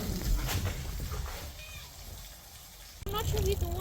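Water sprayed from a hose onto a house to mimic rain makes a steady broadband hiss, with someone talking over it near the start and again at the end.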